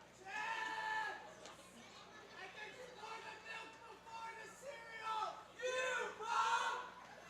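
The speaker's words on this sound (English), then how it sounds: "Crowd is certainly into it right now." Ballpark crowd at a Reading Fightin Phils minor league baseball game against Harrisburg, a broad wash of cheering and chatter that swells in waves, loudest near the end, with bleat-like yells rising above the noise.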